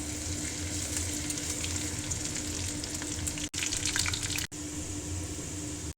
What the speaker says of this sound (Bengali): তেল গরম হয়ে গেলে একে একে করে সবগুলো ফোড়ন দিয়ে দেব। হালকা করে ভেজে নেব।